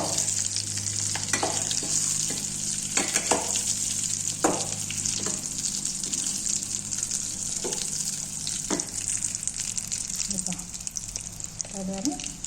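Food sautés in a pan with a continuous close sizzle, broken by intermittent clicks and scrapes of stirring throughout, with no voices.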